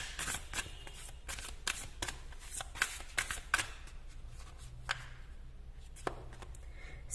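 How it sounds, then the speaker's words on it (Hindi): Tarot cards shuffled and drawn from a deck, making quick, quiet riffling bursts and soft slaps in an irregular rhythm, heard close with no talking. "कुछ कार्ड्स मैं और निकालती हूं"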